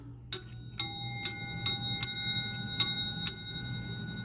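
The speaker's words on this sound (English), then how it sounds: "Got the ringer, two nice sounding bells" Bright metallic twin ringer bells of a 1954 PTT Standard telephone are struck about eight times in an uneven rhythm, each ding ringing on briefly, close and clear.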